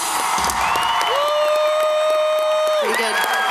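A concert audience at the Riverside Theater in Milwaukee claps and cheers loudly for the bass player. Sustained applause and whoops are joined by a high whistle, and a voice speaks over the crowd.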